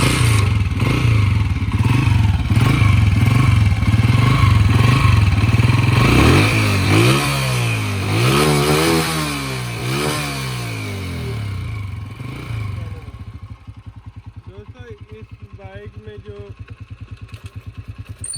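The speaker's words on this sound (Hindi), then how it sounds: "अब हम आपको इंजन का साउंड चेक कराते हैं इसका, कि इंजन का साउंड कैसा है।" Honda 125 motorcycle engine running with a worn, noisy piston, loud close revving with rhythmic clattering pulses, then settling into a quieter steady idle near the end.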